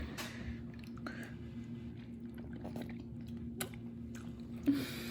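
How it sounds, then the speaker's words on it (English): Two people bite into and chew shared food at a park table, heard as quiet, close, soft squishy mouth sounds with a few sharper clicks and crunches and no talking. "you bite that side and I'll bite this side"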